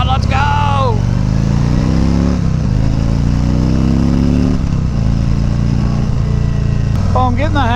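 A 2019 Harley-Davidson Freewheeler trike with a 114ci V-twin engine pulls away, its deep rumbling exhaust loud and steady close by as it rides off, with a brief higher whine near the start and end.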